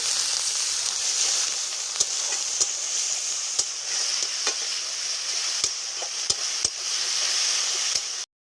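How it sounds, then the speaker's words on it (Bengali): Ground spices with green chilli and garlic paste cook with a little water in a pan, giving a steady close sizzle with sharp clicks of a spoon scraping and stirring, and no talking. "মশলাগুলিকে আমি একটু জল দিয়ে ভালো করে কষিয়ে নেব।"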